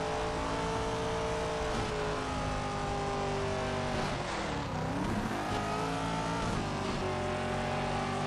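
A Nissan race truck fitted with a big rear wing roars through a Colin McRae Dirt race, its engine droning steadily and revving with shifting pitch, loud and continuous with occasional tire scrub.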